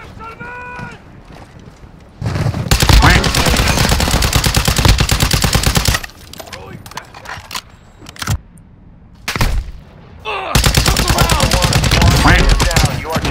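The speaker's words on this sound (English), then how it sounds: "I'm taking fire." Rapid automatic gunfire from a Call of Duty DMZ match, loud bursts from about 2.5 to 6 seconds and again from 10.5 seconds on, with shorter sporadic shots between, mixed with game effects and occasional voice chat.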